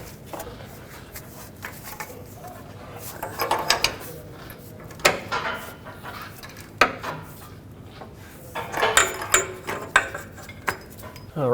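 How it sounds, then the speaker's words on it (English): A ratchet tightens an oxygen sensor on the exhaust pipe with catalytic converter of a 2009-2013 Honda Fit, giving close, irregular bursts of metallic clicking and light clanking with short pauses between them. "now that it's bottomed out, let's get our tool and tighten it up"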